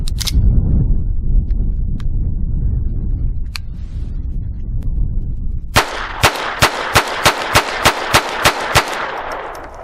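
Ten sharp gunshots from a Phoenix Arms HP22A .22 pistol firing round-nose ammunition ring out in a quick, steady rhythm, loud and close, after a stretch of low rumbling background.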